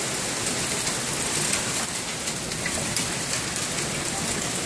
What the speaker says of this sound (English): This is hail.